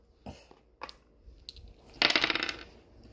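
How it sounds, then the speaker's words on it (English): Dice rolled on a hard surface during a math lesson on odd and even numbers: a few light taps, then a short rattling clatter as they tumble and settle, close and clear. "Let's spin, roll some dice a little."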